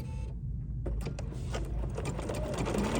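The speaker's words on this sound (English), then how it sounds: "lowering my presser foot, and stitching" B 790 PRO sewing machine stitching a buttonhole, a steady close mechanical whir with rapid needle chatter running continuously after a brief start.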